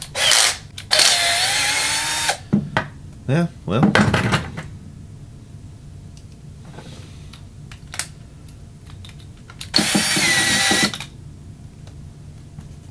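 Two loud bursts of a power tool whirring, each about a second or two, driving an adjustable wrench, separated by quieter clatter and a brief spoken remark.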